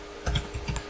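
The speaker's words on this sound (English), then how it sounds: "I'm simply typing make." Quick, light keyboard typing, a short burst of several key clicks close by with nothing else in the background.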